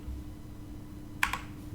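A couple of quick clicks from a computer keyboard being typed on during data entry, brief and moderately close over a steady low room hum.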